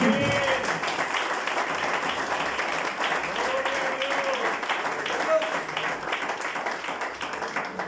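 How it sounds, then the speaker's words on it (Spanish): A church congregation claps in a steady, moderately loud round of applause lasting several seconds, with voices calling out faintly beneath the clapping. "¿Qué tal si le brinde ese aplauso al Señor?"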